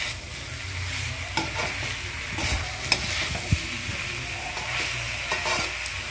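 Spices and spring onion greens sizzle in a pan while a spoon scrapes and stirs, giving a steady fry hiss broken by occasional clicks and knocks.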